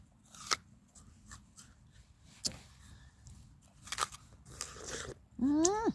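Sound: pet animal biting and chewing food

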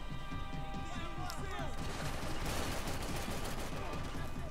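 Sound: gunfire from Max Payne 3 video game

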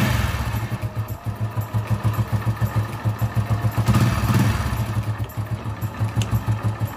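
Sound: motorcycle engine started and idling

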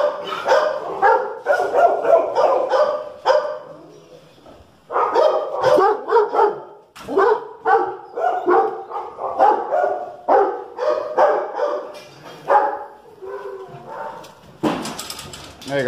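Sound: dog barking

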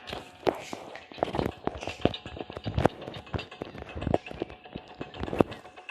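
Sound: enemy footsteps approaching in a video game

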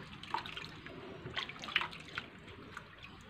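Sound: rinsing sago starch flour with water

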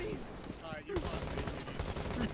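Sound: gunfire in Rainbow Six Siege video game

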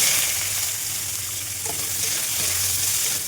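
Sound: onions frying in hot oil

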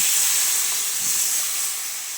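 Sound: water poured into vegetables cooking with spices

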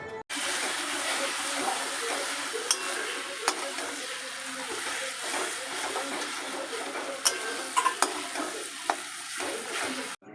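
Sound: lote fish being stir-fried dry in a pan

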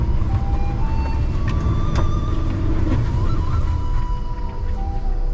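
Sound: Jeep Renegade engine trying to climb a muddy road

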